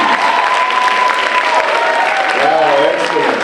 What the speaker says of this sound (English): Please, let's give Mr. Hank Stewart another round of applause